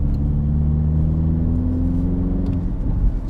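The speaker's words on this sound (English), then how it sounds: "It's got some nice turbo sound as well." Turbocharged four-cylinder engine of a JCW Mini Countryman ALL4 running steadily through corners from inside the cabin, a constant loud low drone with a slight pitch rise and faint whir, no talking.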